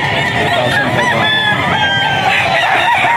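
A young Spartan Black rooster stag crows continuously at close range, a loud, dense, sustained call that fills the clip with no talk over it.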